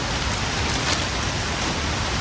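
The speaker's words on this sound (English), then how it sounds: "Oh, rain's starting." Rain falls in the woods as a loud, steady hiss of drops on leaves and ground, broadband and unbroken throughout.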